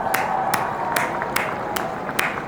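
A small, slow round of applause for Apple, made of about six evenly spaced claps that sound crisp and close over a faint background hum, with no talking.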